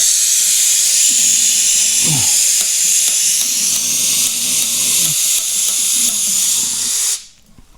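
A camp stove burner hisses loudly with a massive flame, a steady roaring hiss close up with a few faint clinks and low sounds beneath, cutting off abruptly near the end.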